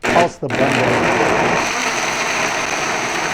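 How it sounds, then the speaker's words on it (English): Kitchen blender set to an average speed pulses a fruit smoothie with nuts, a loud whirring motor starting abruptly and running steadily close by, with a voice talking over it. "I'll just start to pulse the blender"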